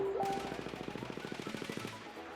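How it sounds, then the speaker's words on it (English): Rapid shotgun and automatic gunfire from Battlefield 1 tournament play, a dense run of sharp evenly spaced bursts lasting about two seconds, loud and close, with no talk over it. "But gets taken out by the shotgun."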